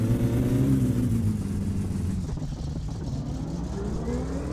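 A car in the video game My Summer Car pulls away, its mid-pitched engine note revving and rising then dropping as it drives off, steady and close throughout.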